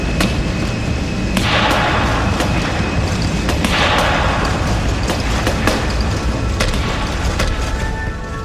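Archival WWII recording of a bridge at Corinth exploding in 1941, a continuous loud rumbling roar with heavy booming surges and scattered sharp cracks throughout, no speech.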